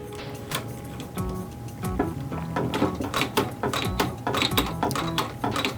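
Small clicking and ticking as a brake lever adjuster on a Strider 20x Sport bike is screwed in by hand, irregular close mechanical taps and scrapes.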